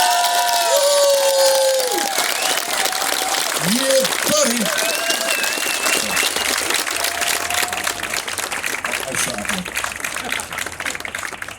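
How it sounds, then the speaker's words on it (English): A crowd at the Inverness Highland Games cheering, whooping and clapping for strongman Tom Stoltman during a Q&A: loud, sustained applause with shouts and whistles throughout, and a voice calling out briefly over it. "if we could just have one huge round of applause for Tom."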